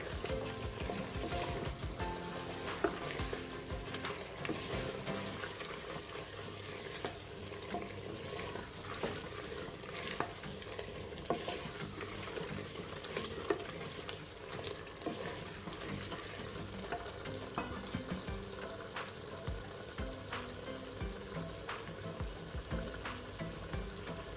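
Chicken liver kaleji frying in a pan while being stirred, a long low-level sizzle broken by frequent scraping and clicking spoon strokes at a steady, busy pace.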